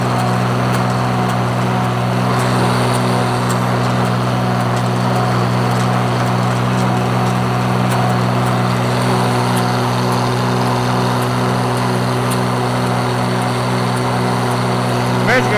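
Tractor mowing a first cutting of hay on a Michigan farm, a steady loud droning engine hum with constant low-pitched tones throughout, no breaks and no talking over it.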